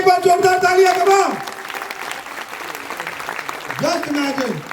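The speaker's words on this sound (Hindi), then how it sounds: "मैं चाहूंगा इनके लिए भी एक बार जोरदार तालियां करो।" Applause from a large seminar audience after a call for loud clapping, with clapping in the background throughout under strong voices that start and end the clip.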